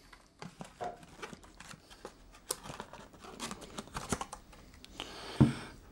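Cardboard and plastic packaging of an Oral-B Genius 9000N electric toothbrush box are handled and opened close by, with soft irregular rustles, taps and crinkles and one louder scrape near the end.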